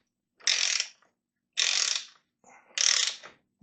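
A ratchet on an extension tightens bolts on a Kawasaki Ninja H2 engine, giving three separate bursts of rapid, close clicking with short pauses between them.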